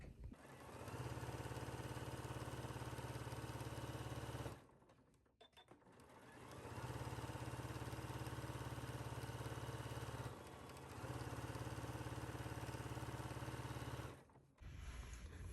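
A sewing machine runs close and steady, understitching a seam on a McCall's M8516 garment, its fast mechanical whir going in three long bursts separated by brief pauses.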